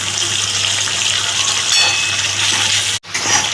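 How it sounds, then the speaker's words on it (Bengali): Onion masala with plenty of garlic, ginger paste and green chillies is sautéed in a pan for egg chilli, a steady close sizzle with light stirring clinks and a brief break near the end. "এবারে আমি এই মশলাটাকে ভালো করে কষিয়ে নেব।"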